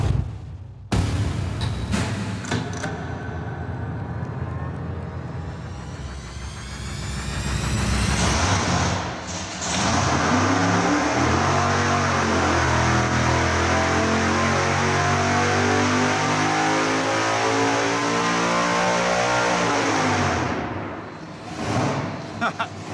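A supercharged big-block Chevy engine on a dyno fires up and roars loudly and steadily for most of the run, revving up and holding before cutting off near the end, with voices talking over it.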